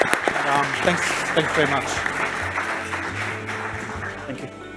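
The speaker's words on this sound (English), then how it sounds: "I wish everybody could just give a round of applause to the guys." A conference audience applauds panelists with steady clapping that fills the room, loud and close, while someone speaks briefly over it.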